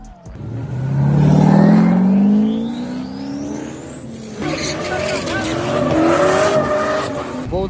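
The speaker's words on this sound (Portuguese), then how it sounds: "coloca um vídeo dele fazendo drift." A Corvette drifts with a loud, rising engine roar and long screeching tire squeal, then settles into a lower revving growl with lingering squeals and rumble, close and intense throughout.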